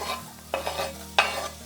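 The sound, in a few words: onions sizzling in olive oil in a warm pan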